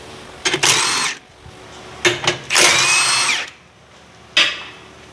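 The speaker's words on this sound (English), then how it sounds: "now I'm gonna remove the lower bolt from the bottom shock" An impact or power tool whirs in several loud, near bursts while loosening the lower rear shock absorber bolt on a Chevy Cobalt during rear axle replacement, with short pauses between the runs.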